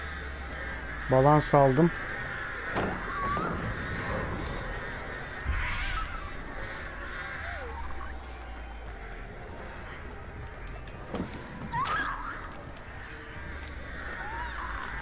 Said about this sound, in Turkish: Bütün kargaları kurdu.